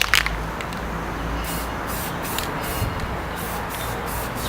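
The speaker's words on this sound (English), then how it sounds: "Spray it right in there, get it right through there." A spray can hisses dark green camouflage paint onto a surface close by, one sustained hiss broken into short bursts.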